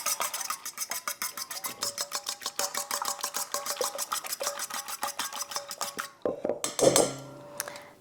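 Rapid, even clinks of a utensil whisking ingredients against a bowl keep a steady rhythm for about six seconds, then end in a few looser scraping knocks and a short ringing clatter, close and with no talking.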